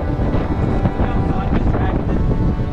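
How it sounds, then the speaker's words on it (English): Storm gusts of over 30 knots batter an anchored boat in the Great Barrier Reef, a loud, continuous rumbling buffet of wind on the microphone with surging pulses and faint voices underneath. "More than 30 knot gusts."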